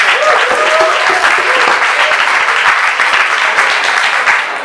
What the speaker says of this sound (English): I think y'all should give yourselves a round of applause for showing up tonight